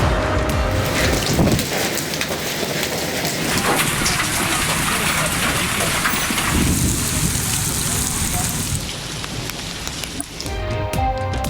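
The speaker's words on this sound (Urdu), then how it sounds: "گرج چمک کے ساتھ بارش" Rain pours steadily in Punjab cities during a storm, a dense hiss of falling water with low thunder rumbling beneath, loud and continuous throughout.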